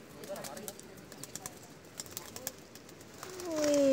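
A racing pigeon being trained coos faintly outdoors, amid scattered soft clicks and flutters, with a sharper whistle-like sound near the end.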